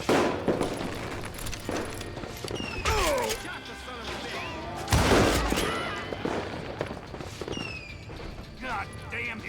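Rapid bursts of gunfire and crashing impacts from the Western shooter game Call of Juarez: Gunslinger, loud and dense over a busy mix of effects, with shouting voices in places.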